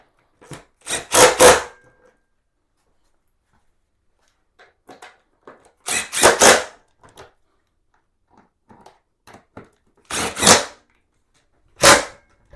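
Motorcycle air filter cover bolts on a Lifan KPX 250 dual-sport bike are tightened with a hand tool, giving short bursts of quick ratcheting clicks separated by quiet gaps and a few faint taps.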